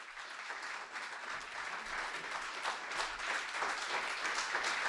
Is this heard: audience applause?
yes